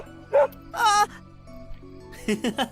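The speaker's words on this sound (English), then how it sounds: "This dog is just as wild as Wolf Boy" A dog in the Camp Buddy visual novel gives a few short, high yips and barks in quick bursts, fairly close and loud, over a faint background tone.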